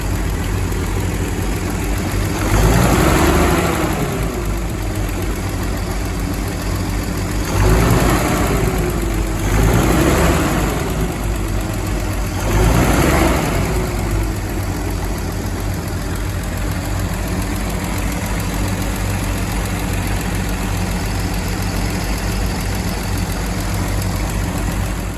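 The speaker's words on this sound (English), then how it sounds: "Fairly happy engine." A Humber Mk1 Snipe car engine, freshly swapped for a later-type unit, idles steadily with a low, even rumble, rising in a few brief revs spaced several seconds apart, close and alone.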